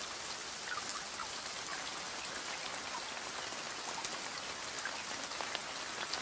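Rain falls steadily on open grassland, heard as an even, soft, dense patter of drops at low volume with no other sounds.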